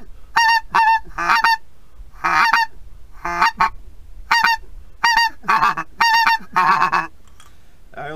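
A hand-held goose call used for wildfowling mimics several geese, giving a series of sharp, loud honks in irregular short bursts and doubled notes, close up with no talk.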